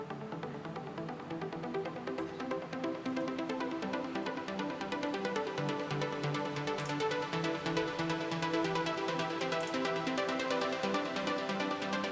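An EDM synth lead with its filter opened up plays a steady, dense melodic line throughout, bright and continuous for the whole stretch, part of a bootleg remix.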